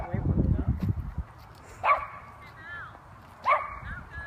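Dogs at a dog park, where a couple of sharp barks ring out apart from each other, close and clear, after a stretch of people talking.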